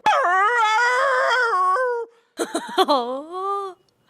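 A man imitates dogs with his voice, giving a long drawn-out howling whine followed by a short pause and a cluster of yipping, whimpering barks, close and loud.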